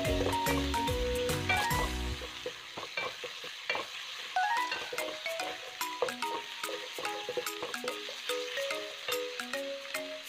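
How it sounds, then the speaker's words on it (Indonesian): Small pieces of chicken meat stir-fry in a pan for a ragout filling, with a steady sizzle and repeated scraping and clattering strokes from the stirring utensil. "kita masukkan daging ayamnya yang sudah kita potong kecil-kecil. Lalu kita aduk, kita tumis sampai ayamnya benar-benar matang."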